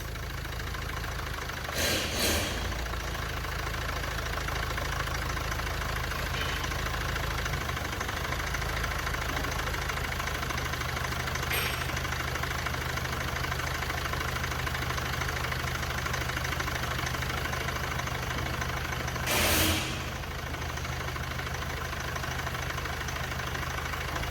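Mercedes W212 engine idling steadily after timing chain work, a continuous low even hum held for the whole stretch with a couple of brief louder clicks or knocks, no talking.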